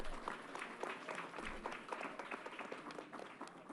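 Audience applause fills a stretch during a gathering announcement at Yankee Stadium, a steady, dense patter of many hands clapping with a few louder claps, sustained throughout with no voices.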